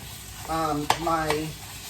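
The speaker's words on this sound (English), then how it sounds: "I wanna break up this meat" A spoon stirs and breaks up ground beef sizzling in a pan for tacos, with scraping strokes and a sharp clink over steady frying hiss, while a person talks over it.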